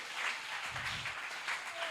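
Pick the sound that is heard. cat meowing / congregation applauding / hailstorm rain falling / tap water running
congregation applauding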